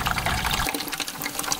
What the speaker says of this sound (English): And then I'll go ahead and I will drain it out like so.